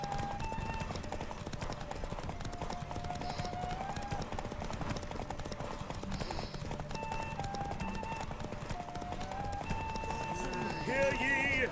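Horse hooves drumming in a derby race in The Witcher 3: Wild Hunt, a steady galloping clatter running throughout beneath someone talking, with game music and ambience layered in.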